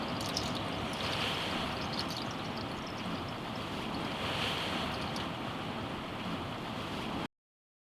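Ocean surf along the French Atlantic coast, a loud steady wash of breaking waves with wind noise, swelling twice in broad surges, heard close and alone.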